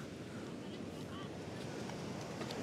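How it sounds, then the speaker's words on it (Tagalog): Strong ocean waves surge and wash in a steady, low rumbling roar mixed with wind buffeting the microphone, fairly faint and continuous throughout. "Ang lakas ng alon!"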